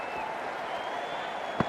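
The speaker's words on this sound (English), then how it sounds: "they'll receive a warm reception from the crowd" A crowd at an India versus Australia T20 cricket match gives a warm round of applause, a broad wash of distant clapping, steady throughout with one brief sharp knock near the end.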